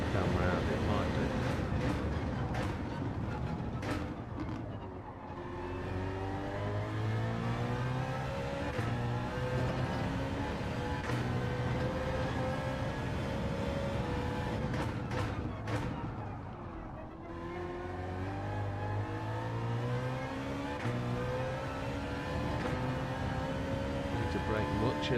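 Racing video game car engine revving hard toward the redline with rising pitch sweeps and gear changes, loud and continuous, with a voice talking over it at times.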